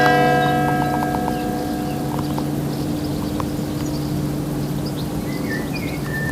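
Church bells ring from a village bell tower, with tones fading out over the first seconds, while birds chirp faintly in the distance outdoors.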